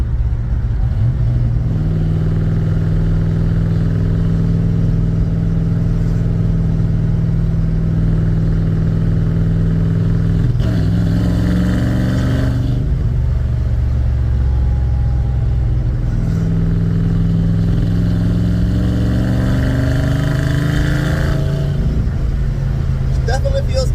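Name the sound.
Ford F100 truck engine revving at open throttle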